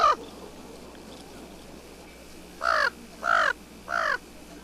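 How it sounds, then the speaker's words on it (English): Fan-tailed raven giving three loud falsetto squawks, evenly spaced and close, with a short fragment of a call at the very start and quiet surroundings between them. "The fan-tailed raven has as its normal call a falsetto squawk."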